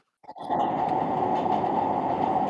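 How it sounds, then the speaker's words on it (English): A continuous, loud rumbling ride noise like a subway train in motion starts abruptly and then runs steadily without a break, with no talking. "Also, Luke, it really sounds like you're like riding on a subway for some reason"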